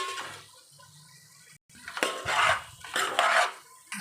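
Chicken fry being stirred in a cooking pan for a Telangana-style dish, with metal utensil scraping and clinking against the pan in bursts, close and moderately loud, with no talking.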